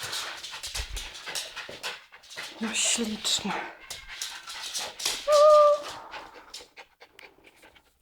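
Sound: dog panting and whimpering

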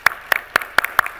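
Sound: applause for panel session participants

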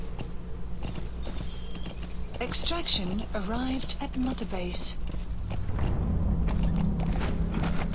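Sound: horse hooves galloping in video game Metal Gear Solid V

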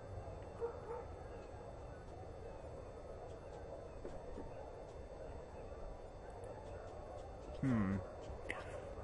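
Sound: dog barking in RuneScape video game

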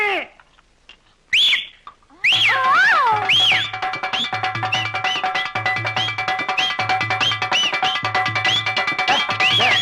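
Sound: person whistling

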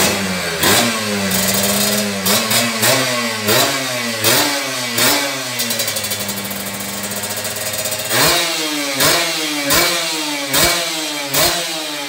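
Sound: Kawasaki Ninja RR 2013 motorcycle engine revving

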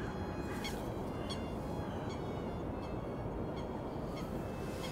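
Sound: coots calling on a lake

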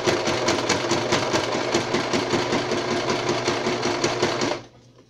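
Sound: sewing machine stitching along the edge of a bracelet

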